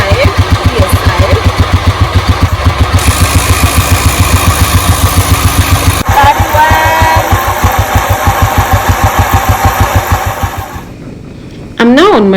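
A motorcycle engine runs steadily while the rider heads to a garage with a slowly leaking tyre, a close, loud, pulsing drone that holds for most of the stretch, then drops away near the end.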